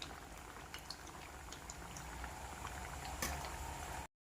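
Sabudana vada deep-fry in hot oil, a soft, steady bubbling and crackle with a few sharper pops, quiet and unbroken until it cuts off abruptly.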